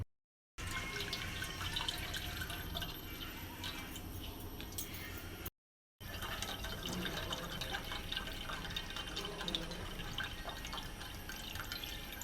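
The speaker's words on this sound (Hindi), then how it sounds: "तो अभी मैं दूध को उबालने देती हूँ।" Milk boils in a pot, a steady bubbling and dripping liquid sound that continues evenly at close range, broken by a brief silent cut.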